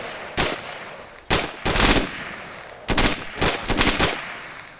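Automatic gunfire in several loud, close bursts of rapid shots separated by short pauses, sharp and cracking with no talk over it.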